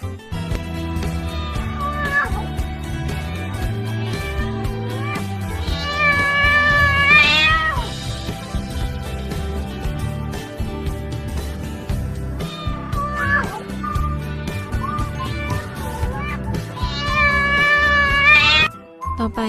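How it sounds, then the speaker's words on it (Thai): Cat meows rise in short bursts over steady background music, two or three clear cries standing out near the middle and end. "ฟังเสียงร้องของแมวกันนะคะ"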